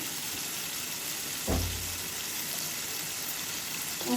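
Shrimp and tomato frying on high heat in a pan, a continuous loud sizzle with a brief burst of hissing and a soft clatter midway.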